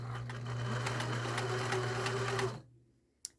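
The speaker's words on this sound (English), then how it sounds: "this machine may be a little louder than you're used to because it's an old mechanical machine" An old all-metal mechanical sewing machine, a grandmother's, stitches steadily with a loud constant hum and rapid needle clatter for about two and a half seconds, then stops abruptly, leaving one small click.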